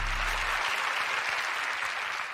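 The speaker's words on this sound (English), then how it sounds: "You should applaud yourselves." A studio audience applauds steadily and loudly for a couple of seconds, dense clapping filling the room with no voices above it.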